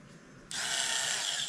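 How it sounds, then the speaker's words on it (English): A wood router spinning at about 15,000 RPM bites into wood while finishing an RC plane wing. After a quiet half second it starts abruptly, then holds a loud, steady, close-up high whine with no talking. "So you always want to route into the direction of cut. The blade is spinning this way, so going in this direction, the blade is cutting into the wood."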